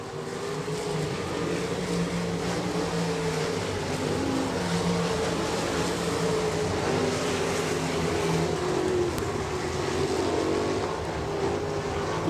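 Hobby stock race cars roar around the I-90 Speedway oval in a late-race feature, a continuous engine drone holding steady at moderate distance across the whole stretch.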